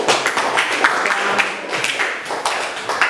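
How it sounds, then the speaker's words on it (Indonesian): A small group applauds group 3 after their presentation in a Catholic religious education class. The dense clapping is steady and fairly close, lasting about three seconds without a break. "Tepuk tangan untuk kelompok 3."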